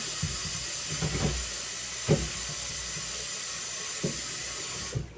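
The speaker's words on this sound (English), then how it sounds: "So here I wash all my fruits that I'll be using." Fruit is washed under a running kitchen tap: a steady, close hiss of flowing water with a few soft knocks and splashes on top.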